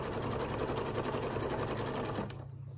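A sewing machine chain-stitches star patchwork blocks for a Thanksgiving table runner, making a steady, close, continuous whirring drone that runs unbroken until it stops just before the end.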